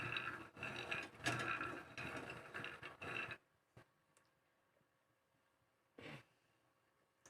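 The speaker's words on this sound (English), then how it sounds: "we're going to peel it and coarsely grind it in a mixer" A mixer grinder coarsely grinds peeled peanuts in a loud, dense burst of about three seconds with brief pauses, then cuts off, leaving near silence broken by a couple of small clicks and a short knock.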